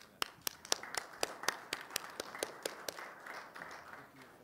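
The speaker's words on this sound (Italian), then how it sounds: "volevo farti anche un applauso" A handful of distinct, evenly spaced hand claps, fairly faint and close, from a small group at a press conference in Rome on digital parliament and technology, fading out as the rhythm loosens.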